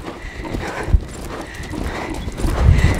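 A horse cantering on a riding track, hooves clip-clopping in a steady rhythm with some heavier thuds, close and fairly loud over light background noise.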